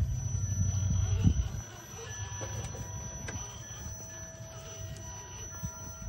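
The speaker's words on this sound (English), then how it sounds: "there's that pulse width whine real bad" A motor gives off a thin, steady high-pitched pulse width modulation whine that holds throughout, over a low rumble that is heavy at first and then drops away, with a few scattered clicks.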